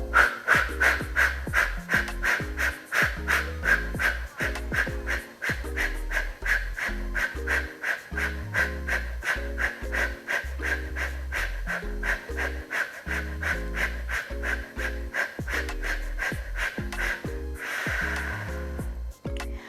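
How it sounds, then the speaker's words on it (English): Rapid, forceful nasal exhales of Kapalabhati fire breathing in a yoga class, a steady unbroken train of quick puffs close to the mic, ending in a longer, softer breath. "there you go, Kapalabhati, fire breathing"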